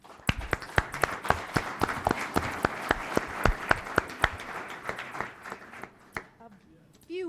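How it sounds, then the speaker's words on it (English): Sparse audience applause at a business and technology club event, with distinct individual claps in a fairly regular rhythm that fade out, followed by a voice starting to speak. "Let's give them a round of applause."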